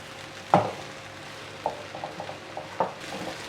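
Rice frying on high flame in a pan for coriander rice, with soft sizzling under a few distinct scrapes and knocks of a spoon stirring, spaced irregularly, fairly quiet and close.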